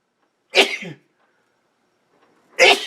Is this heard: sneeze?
yes